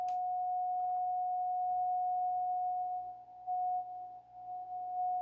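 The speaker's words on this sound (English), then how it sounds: "we'll offset it here just so you can hear the tone." A steady calibrator tone from a Drake R7A receiver, offset from zero beat, holds one constant pitch for about five seconds over a faint hiss, dipping slightly in level near the end as the notch filter comes into play.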